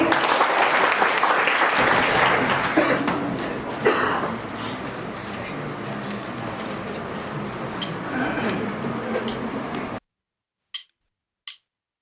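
Audience clapping at a music recital, dense sustained applause for about ten seconds that thins out slightly before stopping abruptly, with a few voices mixed in.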